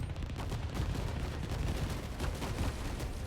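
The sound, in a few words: missile attacks in the video game 13 Sentinels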